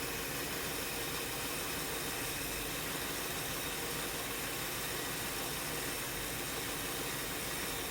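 A farm machine's engine runs low on fluid, holding a constant, loud, broadband rumble with no breaks or changes in pace for the whole stretch.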